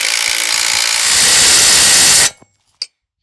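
A power tool runs loud and close for about two seconds while tightening the lower suspension mounts on a 2020 Silverado 1500 Z71 RST during a Rancho lift install. It cuts off abruptly and a short metallic clink follows.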